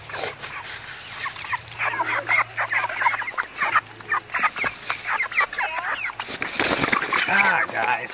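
Several chickens cluck and chatter close by in a busy, overlapping stream, with a low hum underneath.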